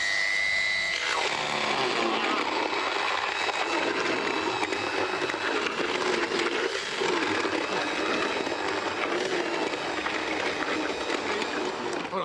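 A Sammic TR-330 liquidiser blending gazpacho in Andalucía runs loud and close with a harsh, continuous motor roar and whine. It starts after a brief lead-in and holds steady throughout.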